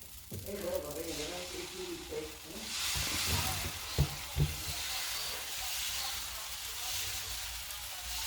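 Dosa batter for a masala ghee roast sizzles on a hot pan, a continuous close hiss with a couple of sharper taps partway through; a voice is briefly heard near the start.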